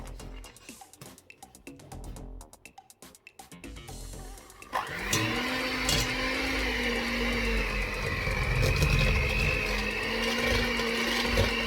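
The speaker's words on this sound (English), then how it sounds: "So we are going to start mixing now" Electric mixer beating cake batter, switching on after a few seconds of quieter clatter and then whirring steadily and loudly at close range, with a sustained motor tone that rises slightly in pitch.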